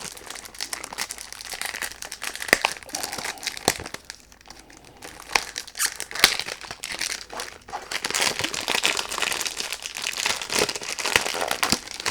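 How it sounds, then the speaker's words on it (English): Packaging for a Vince Camuto Smoked Oud eau de toilette perfume crinkles and rustles close up as it is unboxed, with bursts of crumpling that grow denser and louder toward the end. "Sorry about the noise. When you do unboxing you can't do anything about it."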